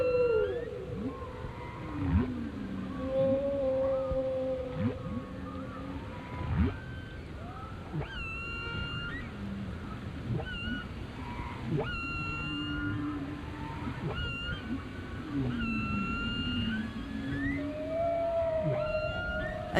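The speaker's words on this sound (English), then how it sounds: "hundreds of males sing their lullaby" Hundreds of male whales sing beneath the ocean, producing long, sliding moans, whoops and higher squeals that overlap and echo at a moderate level against a low, rumbling underwater background.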